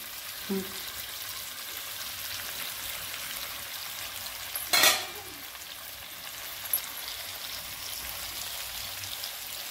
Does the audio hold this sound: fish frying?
yes